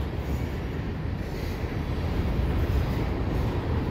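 A Via Rail LRC passenger train or CN freight train rolls steadily past on the line near the Butler Spur, a continuous low rumble of wheels on rail holding at a constant level, with no voices.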